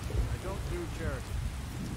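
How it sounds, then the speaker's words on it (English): Thunderstorm with rain in Skyrim VR: a loud rumbling wash of rain and low thunder, steady and close, while faint voice-like tones drift briefly through the middle. "This storm is so bloody loud."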